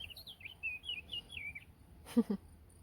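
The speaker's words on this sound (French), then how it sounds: "y a un oiseau qui vient chanter juste pour nous" A bird sings close by in a series of bright, warbling chirps for about a second and a half, followed by a short low knock or thump, with no talking.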